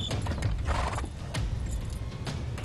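Horse hooves clip-clop steadily on a road as a horse-drawn cart rolls along, with creaking, rattling wheels and harness close by.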